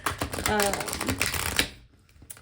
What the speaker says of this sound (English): these cards are like hard for me to shuffle anyway